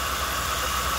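A 1995 Mercury Cougar XR7 engine idles steadily up close, a continuous low rumble with a pulsing beat and a broad mechanical hum, no voices.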